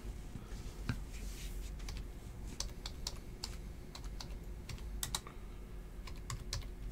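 Quick bursts of typing on a computer keyboard, close and soft, with irregular key clicks and short pauses against a faint steady hum.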